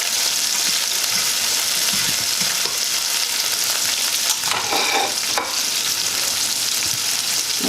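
Garlic sizzling steadily in a hot pan for Jamaican ackee and saltfish, with a fork scraping and stirring now and then, a loud, close, continuous hiss and no voices.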